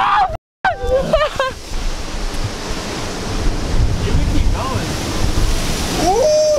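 Ocean waves crash on the rocks at the Cape of Good Hope with a loud, continuous roar and surge, mixed with gusty wind noise on the microphone. A few brief voices sound near the start and end.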